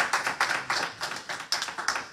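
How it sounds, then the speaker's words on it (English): A church congregation claps along, a brisk rhythmic run of about a dozen hand claps, fairly close and evenly spaced, with no voices over it. "Clap your hands if you agree with hearing that."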